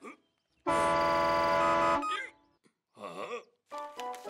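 Cartoon heavy truck blowing its horn in a loud, sustained blast of over a second during a road-safety horn test, followed by brief lively voices talking.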